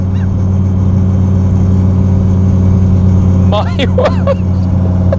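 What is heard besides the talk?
powerful car accelerating hard off the line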